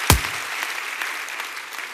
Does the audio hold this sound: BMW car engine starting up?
no